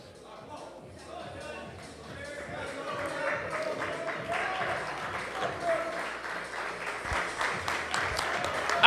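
Crowd at a CrossFit qualifier event in Birmingham swells into cheering and clapping, starting moderate and building louder over several seconds, with voices mixed in.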